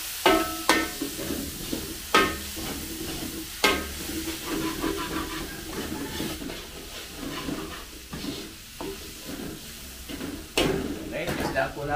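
Beef tripe deep-frying in hot oil gives a continuous sizzle, broken by sharp clanks and scrapes of a utensil stirring against the pot, with voices talking over the cooking.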